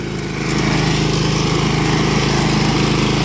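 A Honda lawn mower engine runs in second gear, a loud, steady, droning hum with a fast regular pulse that rises slightly at the start and then holds even throughout.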